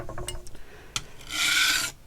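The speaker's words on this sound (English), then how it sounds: "Just kind of spread the oil around a bit." Honing oil is rubbed across a coarse sharpening stone: a few light scrapes and taps, then a close, dry rasping stroke lasting about half a second, with no talking.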